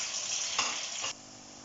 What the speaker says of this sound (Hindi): प्याज को हम जो है लाइट ब्राउन होने तक इसमें फ्राई करेंगे हैं।